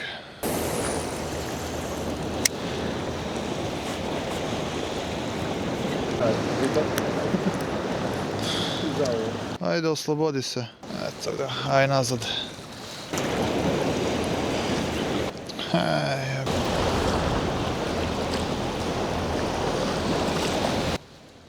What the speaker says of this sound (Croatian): Veliki su valovi